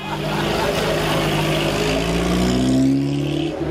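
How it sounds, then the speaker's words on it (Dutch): A 1958 Lancia Aurelia drives past close by, its engine note swelling and rising in pitch as it nears, then easing off as it moves away, with faint background voices. "Die komt met een Lancia Aurelia uit 1958"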